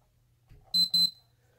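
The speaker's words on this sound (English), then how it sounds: "You hear that beep?" An electric diffuser gives two short, bright electronic beeps in quick succession as it is plugged in, close and clear against a quiet room.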